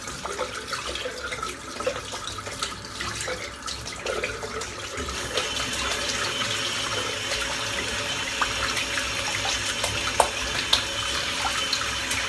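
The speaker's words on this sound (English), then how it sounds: "What I'm doing now is just cleaning the brush out." Running tap water splashes steadily into a sink as a shaving brush is rinsed clean, a soft, continuous wash with small irregular spatters and no talking.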